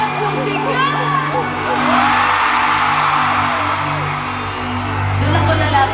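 A concert crowd in an arena shouts and cheers in a loud, sustained roar that swells and dips. Voices rise and fall throughout.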